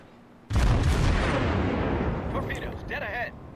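A naval gun salvo booms out in World of Warships, a sudden loud blast followed by a long rumbling roar. It fades slowly as a faint whine rises over the tail.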